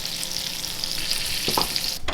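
Salmon fries skin-side down in a pan with a steady, close crackling sizzle, plus a faint scrape or two near the end.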